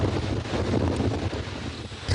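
Strong wind buffets the microphone on exposed coastal cliffs above a heavy ocean swell, a steady loud rushing roar with no voices.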